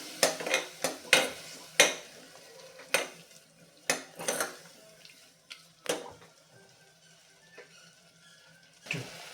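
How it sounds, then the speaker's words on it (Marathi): A spoon scrapes and knocks against a pressure cooker while tomato puree is stirred and sautéed, sharp metallic clacks at irregular intervals over a faint low simmer, close by and without talk. "ही प्युरी यामध्ये घालून घेऊयात मिक्स करून घेऊयात आणि हे सुद्धा छानपैकी परतून घेऊयात"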